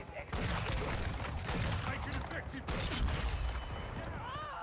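Marksman rifle gunfire in Modern Warfare 2, loud dense shots and game action running continuously throughout, with a voice talking over the noise.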